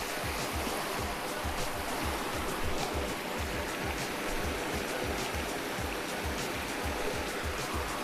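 A forceful river stream rushes near a waterfall in Dhemaji, Assam, producing a loud, continuous roar of churning water close by, with a low pulsing turbulence and no talk.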